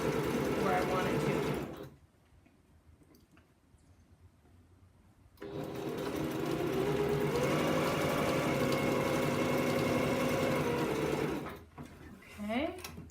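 A sewing machine stitches quilt pieces together in two steady bursts, the first short and the second longer, with a quiet pause between them and a little handling noise at the end.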